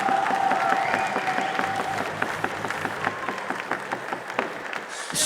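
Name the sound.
audience applause for MMA fight winner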